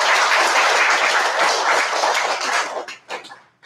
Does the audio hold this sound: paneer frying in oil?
no